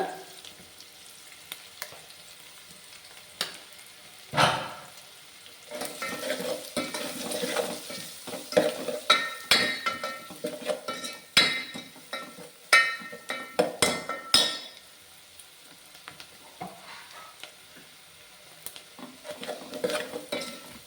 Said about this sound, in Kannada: ಇದು ನೀಟಾಗಿ ಸ್ವಲ್ಪ ಸ್ಮೂತ್ ಆಗಿ ಬೇಯಲಿ ಇದು ಎಣ್ಣೆಯಲ್ಲೇನೆ